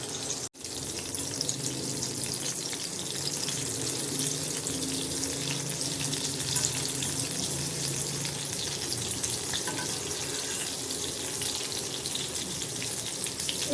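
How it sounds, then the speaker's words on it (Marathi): Besan-coated prawns fry in hot oil, a dense steady sizzle crackling close and continuously for the whole stretch, with no talk over it. "प्रॉन्स फ्राय करून घेते मी तेलामध्ये."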